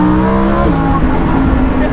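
A Lamborghini Huracan with a 610 bhp V10 engine revving loudly and close, a rising and falling snarl with brief crackles, while people talk over it.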